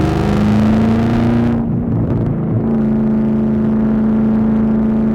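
A Camaro ZL1 1LE with a supercharged LT4 engine and loud exhaust roars close by on a canyon drive, holding a steady drone that dips briefly as the revs drop and then returns strong.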